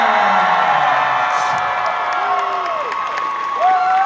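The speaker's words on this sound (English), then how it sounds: "Keep that applause going as we bring up on the stage" Packed convention hall crowd at a Denver fan expo cheering and clapping as celebrities take the stage, with whoops and shouts over sustained applause, loud and close.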